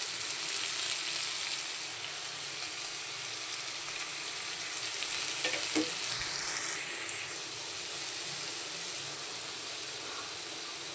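Fig and chickpea curry sizzles and fries in a pan, a steady, close hiss of hot oil that runs without a break, with one brief clink partway through.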